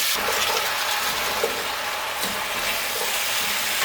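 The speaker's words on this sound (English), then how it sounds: "What we'll need to do at this point is give everything a good stir." Thinly sliced pumpkin is stirred in a pot while stewing with spices, producing a continuous close sizzle with soft scraping and stirring and no talk.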